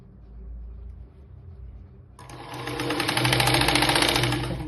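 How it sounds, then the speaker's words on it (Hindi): An electric sewing machine stitching a blouse armhole starts after a quiet moment, then runs with a loud, fast, steady mechanical whir and needle clatter, close by. "इस तरीके से जब हम सिलाई लगा रहे हैं बहुत ही सावधानी से यहाँ पे लगा लेनी है।"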